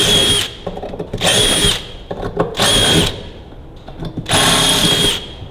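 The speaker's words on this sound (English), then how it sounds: "you do have to drill it out to 5mm" A power drill whines in four short bursts, near and loud, boring out rivet holes to 5mm in tractor brake linings, with quieter handling clatter in the pauses between them.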